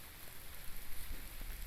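Steady rain hissing across a broad band, with a low rumble and occasional drops landing nearby; no voices.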